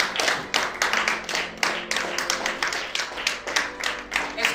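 A church congregation claps together during worship, a steady, even beat of many hands repeating for several seconds, with a little voice mixed faintly underneath.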